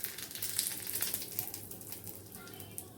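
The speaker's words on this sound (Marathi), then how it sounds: "आता ही फोडणी आपण त्याच्यावर टाकून देऊया" Hot mustard seed and curry leaf tempering is poured over steamed colocasia leaf rolls and sizzles in a quiet crackling burst that slowly settles to a soft, fading fizz.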